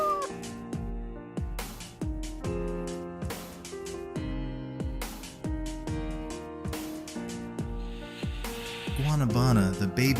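A kitten meows repeatedly over steady background music, with higher, wavering cries toward the end.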